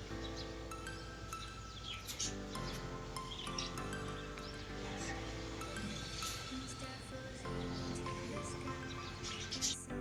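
Birds chirp and tweet outdoors on a Bhogi festival morning, scattered calls sounding steadily over a continuous tonal background, with no one speaking.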